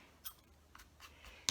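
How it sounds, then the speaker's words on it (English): Small flat scissors trim paper material for a mini lap book, giving four or five quiet, crisp snips spaced irregularly over a second and a half, close and soft against a faint background hum. "I'm going to trim some of this material away with my little flat scissors here."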